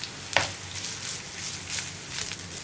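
Grated coconut fries with onions in a pan for horse gram and pumpkin erissery, a soft sizzle broken by a sharp scrape of the stirring spoon and a few quieter stirs.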